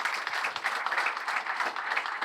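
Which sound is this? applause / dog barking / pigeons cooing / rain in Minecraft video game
applause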